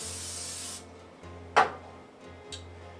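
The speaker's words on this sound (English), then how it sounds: "Next we're going to spray the pan, dish, whichever you're using." A short hiss of aerosol cooking spray onto a sheet pan, one brief burst followed by a fainter second puff, over a low steady hum.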